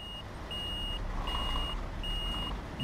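Repeated reversing beeps from a truck backing up among parked cars in Euro Truck Simulator 2, a steady evenly spaced series of four high tones over a low idling engine rumble, close and clear with no talk.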